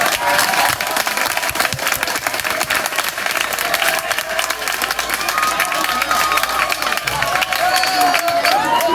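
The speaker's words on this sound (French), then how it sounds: "on se lève tous et on acclame Marcel Pailly pour tout cet enrichissement" A conference audience stands and applauds Marcel Pailly, a dense and steady sustained clapping that is loud and near, with scattered cheers and voices mixed in.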